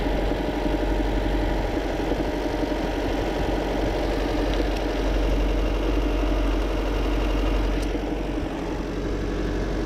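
A 2014 Chevy Volt's Ecotec engine idles with a secondary ignition misfire, giving a steady, close, rumbling drone with a slightly uneven, knocking pulse and no talk.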